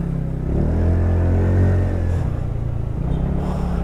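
A TVS NTORQ 150 scooter engine on a test ride hums close and steady, its pitch rising as it accelerates, then easing into a rougher rumbling drone.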